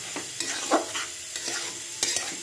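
Spinach frying with garlic, salt and turmeric in a pan, a soft continuous sizzle broken by close, repeated scraping strokes of a stirring spoon.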